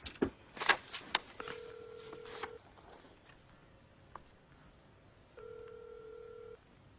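A telephone rings out while calling a cab company: two long electronic ringback tones separated by a pause, faint and steady, preceded by a few clicks and handset handling noises in a quiet room.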